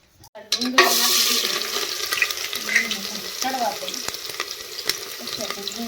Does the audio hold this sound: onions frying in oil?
yes